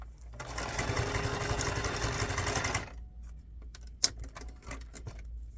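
A sewing machine stitches strips of paper and fabric scraps for a junk journal, running in a steady, rapid mechanical whir for about three seconds, then stopping, followed by quiet handling clicks and one sharp tap nearby.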